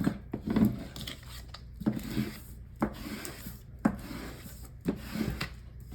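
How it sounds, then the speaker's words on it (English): A scraper tool burnishes transfer tape over cut vinyl in repeated close rubbing strokes, about five quiet scraping passes with short gaps between them and no talking. "With my scraper tool, I will just come in, burnish the front and back."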